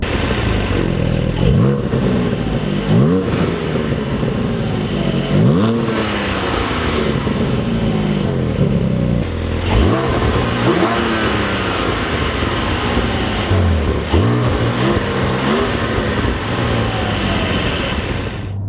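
A Porsche Cayman GT4 engine revs repeatedly, once with the exhaust valves open and once with them closed, loud and close, with sharp rising and falling throttle blips over a continuous idle.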